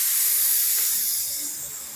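A Harbor Freight air spray gun lays primer onto bare metal with a steady, loud, close hiss of atomised spray that eases slightly toward the end, with no talking.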